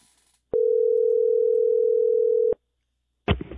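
A steady telephone tone sounds for about two seconds during an outgoing call, cutting off abruptly, followed by a short burst of line noise.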